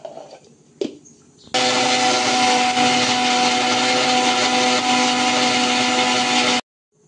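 Garlic cloves, coconut and ginger are ground to a paste in a mixer grinder. A couple of light knocks come first, then a loud, steady motor whir runs for about five seconds and cuts off abruptly.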